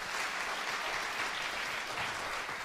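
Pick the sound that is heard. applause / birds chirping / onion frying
applause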